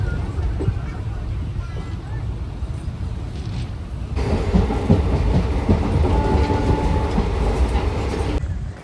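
A passenger train running on rails, heard from inside as a steady loud rumble and rattle of the carriage that grows heavier midway, with faint voices murmuring beneath the noise.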